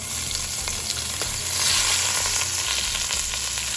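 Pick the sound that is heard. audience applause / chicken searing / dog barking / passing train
chicken searing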